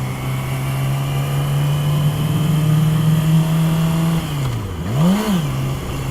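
A Yamaha R6 motorcycle creeping away at barely any throttle, its engine holding a steady low drone that dips and then swells briefly as the bike moves off, loud and close throughout.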